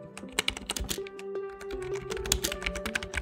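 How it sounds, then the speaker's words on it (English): Steady, rapid typing on a soft membrane keyboard, a dense run of muffled key presses with no talking. "Now for the typing experience, starting with membrane."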